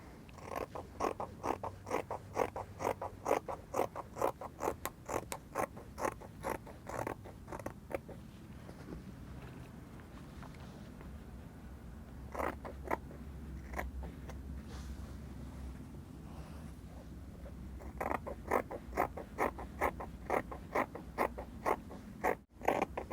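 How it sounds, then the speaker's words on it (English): Scissors cutting through fabric along a chalk line for a puff sleeve, heard as long runs of rapid, evenly spaced snips with a quieter pause in the middle, close and alone. "So I'll just go ahead now and I'll cut it out."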